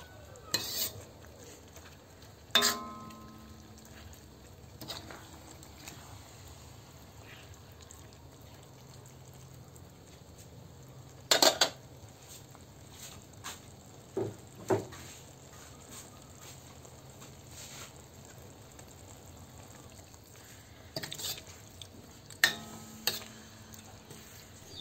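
A spoon stirs a ginataang malunggay, a coconut milk stew of moringa and fish with sliced long green chili peppers, in a pot. There are soft scraping and clinking strokes, with a few sharper knocks against the metal spaced through a quiet background.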